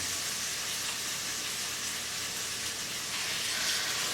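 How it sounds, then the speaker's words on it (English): Chicken pieces cook in melted compound butter inside an old black iron pot, giving a steady, close, even sizzle and frying hiss with no talking. "we're going to place our chicken pieces in our beloved old black iron pot and let them begin to do their thing"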